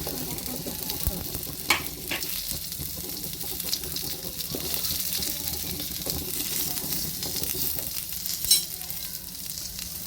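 Onions fry in oil for a North Karnataka green chili chutney, giving a steady, close sizzle with occasional stirring scrapes and soft clinks throughout.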